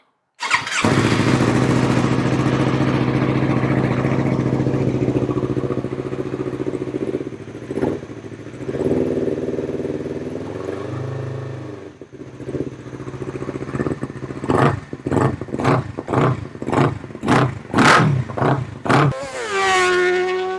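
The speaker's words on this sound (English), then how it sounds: "We already hear the noise coming out from the bike" A Yamaha R3 motorcycle engine runs after an ECU flash, idling loud and close for several seconds, then giving a quick series of sharp throttle blips that rise and fall before a final rev.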